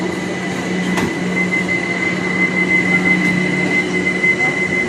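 Inside a moving London train, a steady loud rumble with a constant whining tone fills the carriage, plus a couple of faint clicks, with no one talking.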